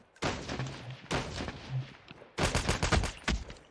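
Call of Duty Mobile game audio of an XPR rifle firing, with separate loud bursts of shots and a denser volley near the end, all close and punchy with no talk.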